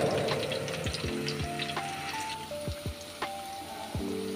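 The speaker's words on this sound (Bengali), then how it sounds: "এবার লাল লাল করে ভেজে তুলে নিতে হবে।" Small shrimp kebabs fry in hot oil, giving a steady moderate sizzle with scattered pops and crackles, and a few brief clinks from a utensil or pan. No one speaks.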